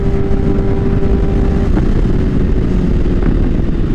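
A motorcycle engine drones loud and constant while riding, a steady rumbling roar with a faint tonal whine that fades partway through and occasional slight surges.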